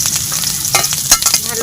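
Chopped onions hitting hot mustard oil in a wok, a steady close crackling sizzle with short bursts of stirring and spatter, no voices.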